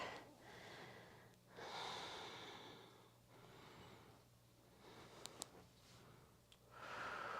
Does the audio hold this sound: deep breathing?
yes